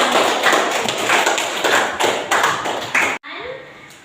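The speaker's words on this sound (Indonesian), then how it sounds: "berikan tepuk tangan" Clapping from a classroom audience after a student's short speech, a dense burst of hand claps for about three seconds that stops abruptly, followed by quieter room noise.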